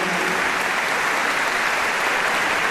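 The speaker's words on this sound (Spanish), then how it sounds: "Un aplauso a Miguel Bruño." A concert audience at a youth and family missionary event in Valencia applauds, dense sustained clapping from many hands at steady loudness throughout, with no voices over it.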